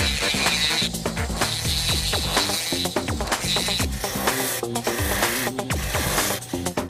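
Smoothing and polishing an artificial eye blank with a steady mechanical whir and rhythmic grinding, loud and continuous with repeated rasping pulses throughout.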